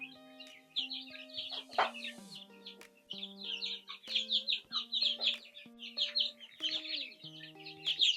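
Many month-old chicks cluck and peep continuously, a soft busy chatter close by, with steady high tweets layered over low clucks.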